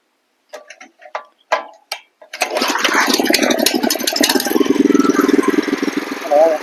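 A small power weeder engine is started in a farm field, catching after a few sharp pulls and then running steadily and loudly at close range, with people talking briefly before it fires.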